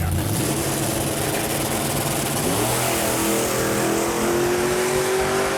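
1970 Ford Mustang drag car launching on a drag strip pass, a loud, dense engine roar that holds steady and then climbs in pitch as it accelerates hard.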